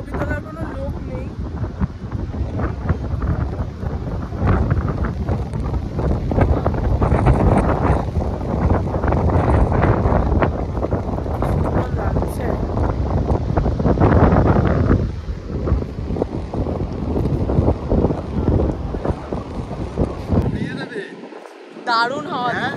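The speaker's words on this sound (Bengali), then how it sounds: "বিরাট জোরে হাওয়া চলছে।" Strong wind buffets the microphone on Mandarmani sea beach, a loud continuous roar rising and falling in gusts, with rough surf underneath and people talking over it.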